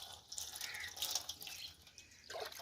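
Water splashed onto a quail while it is being cleaned: faint, close, irregular drips and splashes with brief watery trickles, quiet and alone.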